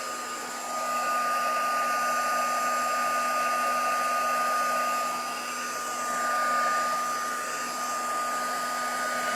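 Hair dryer blowing steadily on a lavender décor craft, a constant close whirring rush with a faint high whine that swells slightly midway, with no voices.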